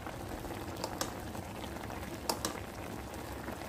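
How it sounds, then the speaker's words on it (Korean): A zucchini and perilla seed stew boils in a pot, giving a quiet, steady bubbling with a few soft pops and clicks throughout and no voices. "이렇게 잘 끓고 있을 때"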